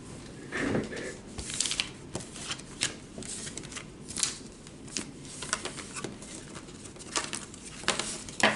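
Tarot energy cards are shuffled and pulled by hand, with a steady run of crisp riffling and soft slapping flicks close up, no voices over them.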